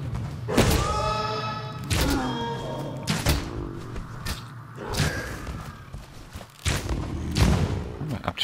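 A Ranger firing attacks in Path of Exile gives repeated heavy thuds and whip-like releases at an irregular pace, with scattered game effects between the shots.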